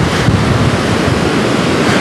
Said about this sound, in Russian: Вот она, мощь морской стихии.